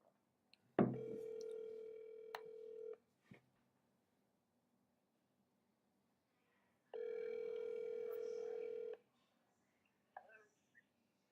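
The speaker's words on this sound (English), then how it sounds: "let me try to dial Jonathan in again here." A telephone ringback or call-progress tone sounds while dialing into a conference call: a steady two-second tone after an initial click, silence, then a second matching tone, with faint clicks between, recorded close and clean.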